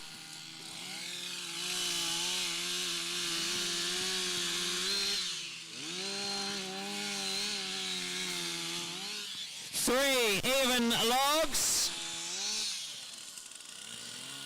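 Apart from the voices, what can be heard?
chainsaws cutting logs in a competition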